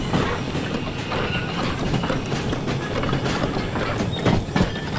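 A train in the video game Derail Valley rolls along the rails under its own momentum on a downgrade. It gives a steady, close rumble with rhythmic clicks from the wheels throughout.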